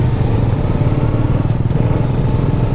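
A motorcycle engine idles steadily up close after a muddy Sunday group ride to Pocharam Dam, a continuous low rumbling throb with a fast even pulse, loud and alone with no talk.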